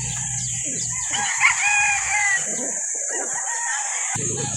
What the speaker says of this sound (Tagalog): 1 year old pa lang tong manok na ito